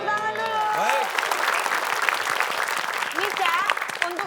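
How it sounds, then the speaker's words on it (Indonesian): Studio audience applause on an Indonesian TV crossword quiz show, a full continuous burst of clapping with voices talking and calling out over it at the start and again near the end. "Kasih tepuk tangan dulu."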